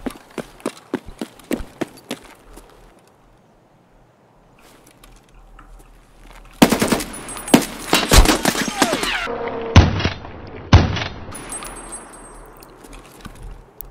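Gunfire in the video game Escape From Tarkov during player-versus-player combat: scattered gunshots at first, then heavy bursts of rapid gunfire and loud bangs, with hoofbeat-like clatter mixed in and a voice briefly audible.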